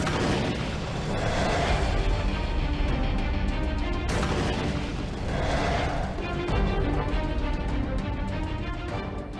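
A wartime MG-42 machine gun fires at 25 rounds per second amid a dense, continuous battle roar, with loud rumbling gunfire and booms layered together, unbroken across the whole span.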